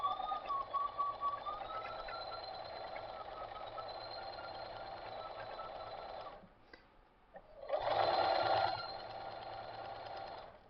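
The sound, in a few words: sewing machine stitching quilt fabric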